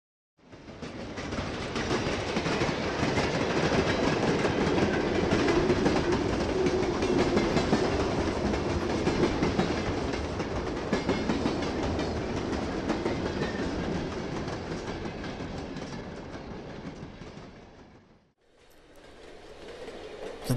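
A Great Northern miniature train circles a track around a zoo parking lot, a continuous rolling rumble with rapid clickety-clack that fades slightly near the end, cuts briefly, then resumes.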